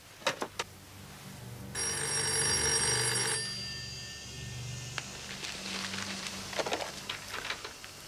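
Telephone ringing after a number is dialed: faint dialing clicks come first, then one sustained, bright electric bell ring lasting over a second, followed by quieter room noise and small clicks.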